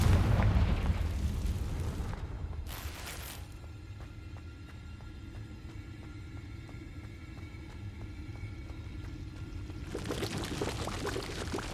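A Confringo fire spell in the Hogwarts Legacy video game erupts as a heavy booming blast that decays into a long rushing, pouring roar before another burst flares near the end.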